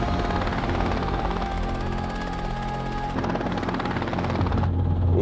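A helicopter close by with its heavy, throbbing rotor drone and engine whine, steady and loud as it settles down to land on the bonnet of a Skoda Yeti.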